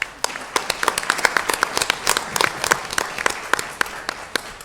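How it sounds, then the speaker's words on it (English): Audience clapping at a school district board meeting, a moderate crowd of distinct, uneven handclaps that start abruptly and continue steadily in a hall with no talk. "how about another round of applause for the cast and crew?"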